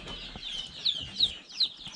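Newly hatched chicks peep inside a box after hatching, their thin, high chirps repeating in a quick, uneven series, soft and close, over faint background rustling.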